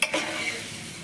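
Bhel mixture of puffed rice with oil, chilli powder and salt being stirred, a quick rustling scrape at the start fading into a soft continuous shuffle.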